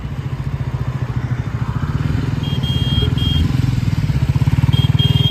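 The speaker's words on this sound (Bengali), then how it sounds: "তারপর আমি ট্র্যাম্পের ট্র্যাকার 400 নিয়ে বেরিয়ে পড়ি টেস্ট রাইডের জন্য।" A Triumph Tracker 400 motorcycle on a test ride thrums in a steady, close, pulsing engine note that slowly grows louder, with faint high whines above the rumble.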